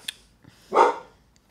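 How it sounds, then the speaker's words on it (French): A dog barks once, clear and moderately loud in a quiet indoor room, with a few faint knocks before and after. "mes chiens se réveillent."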